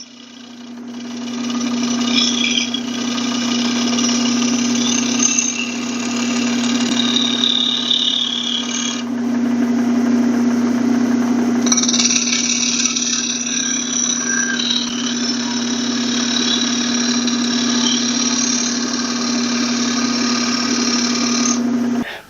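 A wood lathe spins a bowl while a tool refines its outside edge, a loud steady motor hum with a continuous scraping hiss of cutting that pauses briefly midway.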